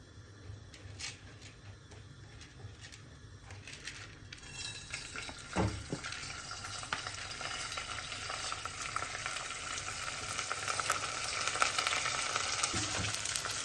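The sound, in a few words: washed rice frying in oil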